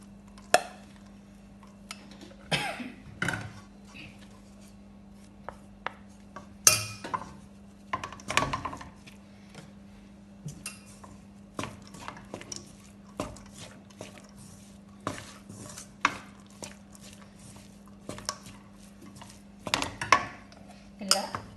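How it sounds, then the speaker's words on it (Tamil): Cooked rice for puliyodharai mixed in a metal vessel, with irregular scraping and clanking of a spoon against the pot, close and intermittent with quiet gaps, over a steady low hum. "இப்போ சோறை போட்டு கலக்க போகிறேன்"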